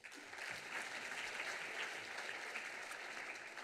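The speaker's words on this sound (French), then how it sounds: "on peut les applaudir." Audience applause at an award ceremony, a dense steady patter of many hands clapping together, fairly faint and sustained for several seconds.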